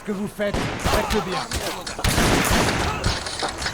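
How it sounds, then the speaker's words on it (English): Musket volleys from a Napoleonic war video game set at the Battle of Borodino, with dense, loud, overlapping crackling shots fired in rapid succession by massed troops, and a voice speaking over the opening. "Let's get over here and shoot into the building."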